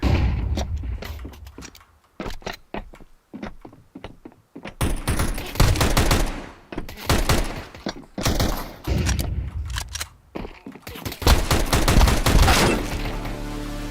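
Tech 9 pistol fire from Counter Strike 2 comes in loud, rapid bursts of sharp shots. The bursts are separated by brief gaps, and the firing grows denser and more continuous toward the end, with no speech.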